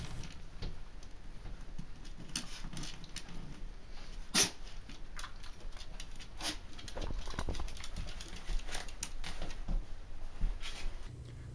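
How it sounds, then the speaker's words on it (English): A teddy bear dog moves about indoors, its quick soft pattering and scattered taps broken by one sharp bark-like burst near the middle, close by over a low steady background. "I am a teddy bear dog."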